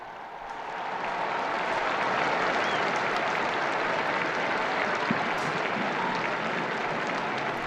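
Crowds gathered below the papal window applaud as Pope Francis appears for the Angelus prayer; sustained clapping swells during the first second, then holds broad and steady at a distance, with faint cheers mixed in.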